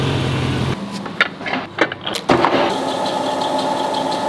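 A BMW E38 735i with a leaky exhaust idles steadily nearby, its low engine rumble broken by a few sharp clunks before settling into an even drone.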